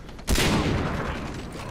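A single loud, close gunshot in Far Cry 3 co-op, a sharp blast followed by a long echoing tail that slowly fades.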